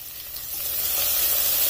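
Peas and carrots frying in a hot pan give a steady, rising sizzle with a bright hiss that grows louder and denser over a couple of seconds, with no voices.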